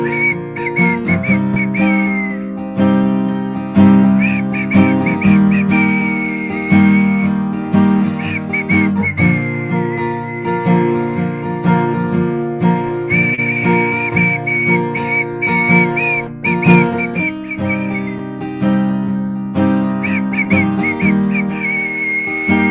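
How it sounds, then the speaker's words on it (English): A person whistles a melodic tune close to the microphone for the whole stretch, with sustained pitched notes over a steady, loud musical accompaniment of chords and bass. "Do my very best to whistle"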